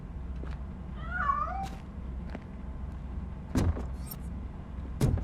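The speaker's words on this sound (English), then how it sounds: "That cat must be hiding inside." A cat meows once, a short wavering cry, amid sparse sharp knocks and clatters in a quiet indoor space.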